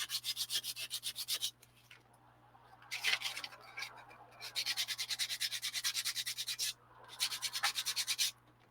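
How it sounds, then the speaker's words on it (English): Sanding a workpiece that shapes easily, in repeated back-and-forth rubbing strokes, close and fairly loud, in bursts separated by short pauses. "and now sanding."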